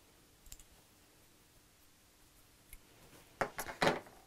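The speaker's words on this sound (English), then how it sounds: "And then trim back your loose threads." Scissors trimming loose threads on a sewn fabric gift bag, heard as a few faint early snips followed by several louder, close crisp cuts near the end, with no talk.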